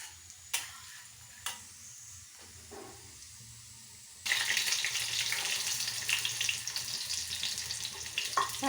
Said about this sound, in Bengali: হালকা করে পনিরটাকে ভেজে নিতে হবে